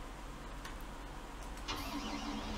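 A powerful tractor engine starts up in Farming Simulator 19, a mechanical crank that catches partway through and settles into a steady mid-pitched running rumble under continuous background noise.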